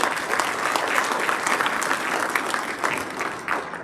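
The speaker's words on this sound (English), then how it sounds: "please round of applause for Steve Dimitri." A crowd at a softball hall of fame induction ceremony claps steadily and warmly for a few seconds, the applause dense and continuous throughout.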